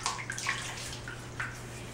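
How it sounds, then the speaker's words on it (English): Hot tap water running and splashing into a bathroom sink, a faint close trickle with small gurgles and a couple of brighter splashes over a low steady hum. "So I got some hot tap water here in the sink."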